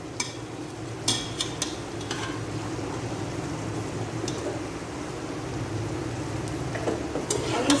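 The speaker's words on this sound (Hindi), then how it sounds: "यह मैंने सारा गोश्त तवे के ऊपर डाल दिया और मसाले में कर लिया अच्छे से मिक्स" Boiled mutton pieces stirred into tomato masala on a hot tawa, a steady sizzle and frying hiss with occasional scraping clinks of a spatula against the metal, close and continuous, no voices.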